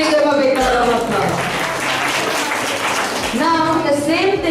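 An audience at a school children's show claps in a dense, loud round of applause that swells after a voice speaks, with more talking near the end.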